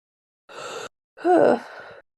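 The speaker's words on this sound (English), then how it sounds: "excuse my yawning" Close, loud human yawn: a short breathy intake, a brief pause, then a longer drawn-out yawning exhale with a rising and falling vocal tone.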